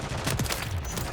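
Rapid gunfire in Modern Warfare 3, a short dense burst of shots that stays loud and steady throughout, with no talking.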